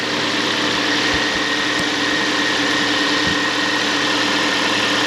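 A 2009 Chevrolet Aveo engine idles steadily and alone at close range, a continuous mid-pitched hum with faint vibration and no speech over it.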